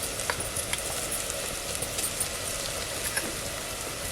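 Goda masala spice mix frying in a pan in a village kitchen, a dense continuous sizzle with faint crackles and occasional soft pops, steady and close, no voices.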